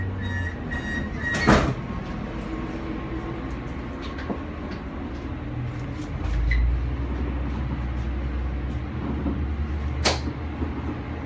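A NSW TrainLink Hunter Railcar diesel set pulls out of Waratah station, with a low rumbling engine drone, sharp metallic clanks and door-like thuds, and wheels rolling as it builds speed nearby.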